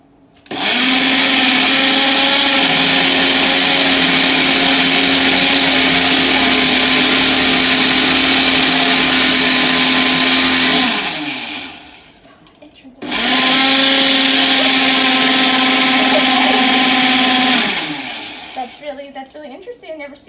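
A countertop blender runs loud and steady whirring through a vegan green tea smoothie, cutting off around eleven seconds, then starting again for a second long burst before winding down.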